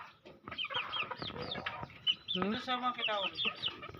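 Several backyard ayam ketawa chickens cluck and squawk close by in a busy, overlapping chorus, with short calls and a few longer drawn-out notes.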